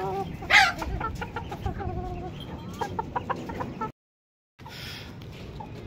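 Bantam chickens cluck and chatter steadily while eating grain in a mini zoo enclosure, close and lively, with one louder squawk near the start and a brief silent gap before the clucking resumes.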